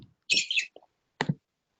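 A small bird chirps in the background of an indoor online meeting, giving a few sharp, bright tweets separated by silence, moderately close and heard alone.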